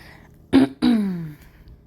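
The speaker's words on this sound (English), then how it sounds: "Excuse me that I keep clearing my throat" Someone clears their throat twice, close and loud: a short rough burst, then a longer raspy, descending one, with near silence around them.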